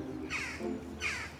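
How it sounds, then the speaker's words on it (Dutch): Crows caw outdoors near a building during a heavy cleaning job, two rasping calls a short distance away with a shorter call between them, over a steady background hiss. "Beginnen de kraaien spontaan te kraaien hier, hoor eens."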